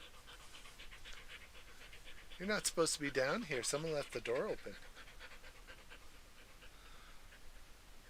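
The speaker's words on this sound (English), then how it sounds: "yeah, that was my dog." A three-legged dog pants heavily indoors, a short run of quick rhythmic breaths close to the microphone, while a person speaks over part of it.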